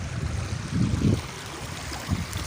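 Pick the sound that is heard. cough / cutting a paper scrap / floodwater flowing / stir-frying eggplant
floodwater flowing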